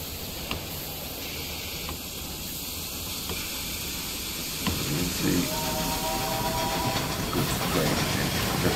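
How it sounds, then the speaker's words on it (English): Steady rumbling rail noise of a freight train running in the Railway Empire 2 game, a continuous hiss and rumble that grows a little louder partway through, with faint tonal squeals near the end. "The freight train is running"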